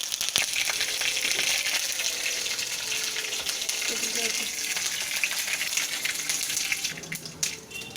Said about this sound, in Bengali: এক এক করে সব ফোড়নগুলো দিয়ে দেওয়া হচ্ছে শুকনো লঙ্কা এরপর তেজপাতা তারপরে সর্ষে